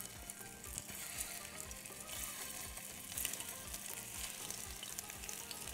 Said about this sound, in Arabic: يلا بينا بقى نحمر الكفته بتاعتنا